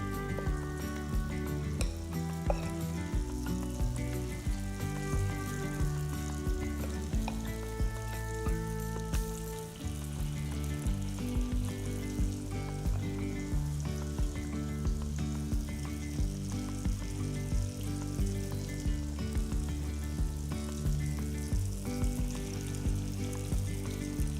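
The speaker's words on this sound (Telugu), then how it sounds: "ఒక గరిటెతో పిండిని తీసుకుని ఇలా నూనెలో వేయాలి" Kara appam batter frying in hot oil in a pan, a dense continuous sizzle heard under steady tonal music for the whole stretch.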